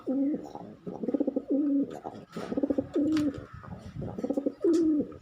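Pigeons coo close by in repeated rolling, throaty phrases, several calls in a row with short gaps, alone without talk.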